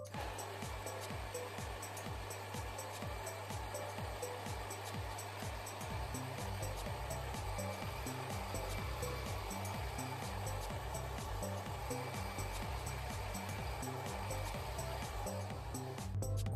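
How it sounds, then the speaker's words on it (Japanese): A hair dryer blows steadily on hair treated with conditioner, a continuous loud whooshing drone with low rumble that holds level for the whole stretch, alone without talk. "ドライヤーをやっていきます。"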